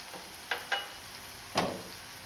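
Tomato masala frying in a pan with chilli powder and coriander powder for prawn masala, a steady low sizzle broken by three short stirring scrapes, close and fairly quiet with no talking.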